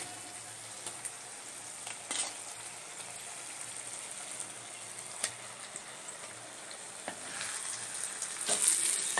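Dried milk shark pieces frying with onion and tomato in a pan, giving a steady quiet sizzle broken by a few brief scraping stirs, with no voices.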